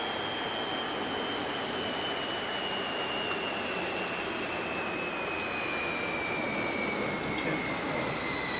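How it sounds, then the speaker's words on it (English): A MiG jet engine winding down to idle, a steady broadband roar with a high whine that slowly drops in pitch, continuous and close. "We're gonna reduce the RPM to idle mode."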